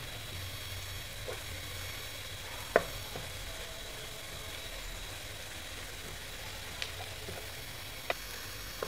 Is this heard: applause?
no